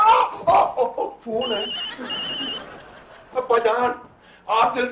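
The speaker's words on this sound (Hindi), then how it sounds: "फोन है।" A telephone rings indoors in a comedy drama scene in Lahore, two short bursts of electronic ringing overlapping loud, animated conversation between several people.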